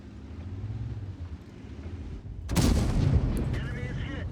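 A tank cannon fires in World of Tanks, a sudden loud booming blast over a low engine rumble, followed by a rolling echo and debris-like crackle.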